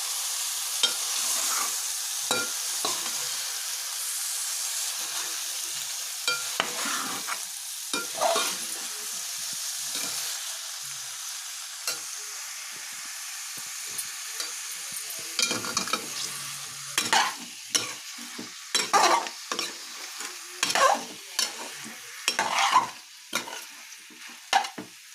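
Pieces fry in a pan under a constant hiss of sizzling oil, while a utensil stirs them with scraping, clattering strokes that become louder and more frequent toward the end, close-up and with no voices.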